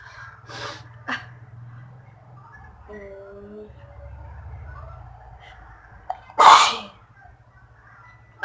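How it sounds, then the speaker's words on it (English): Repeated sneezing from one person, two quick sneezes early on and a louder burst near the end, with breathing and small sounds between them in a quiet room. "I can't really stop myself from sneezing"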